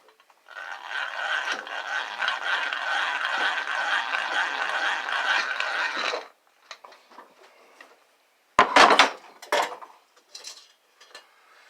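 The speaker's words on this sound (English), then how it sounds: "It's a breast drill, and I drill a hole." A hand-cranked breast drill drilling a hole in a garden hoe runs with a steady grinding whir for about six seconds, then stops, followed by a few scattered knocks and clatters.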